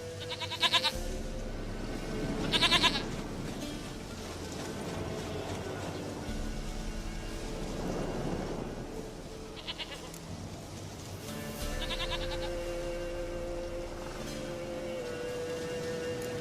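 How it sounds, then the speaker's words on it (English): A goat bleats repeatedly in The Witcher 3: Wild Hunt, with several wavering cries spread across the stretch over a steady ambient game background, moderately loud and without speech. "Goat of mine, dearest, sweetest goat."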